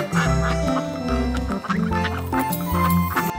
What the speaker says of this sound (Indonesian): ada bebek teman-teman